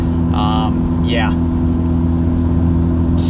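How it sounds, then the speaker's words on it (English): A Honda Civic Type R with an MBRP 3-inch triple-exit cat-back exhaust cruises at low revs in sixth gear, giving a steady, loud, deep drone from inside the cabin while someone talks over it. "this is a super big and deep exhaust note, much bigger, much deeper than factory"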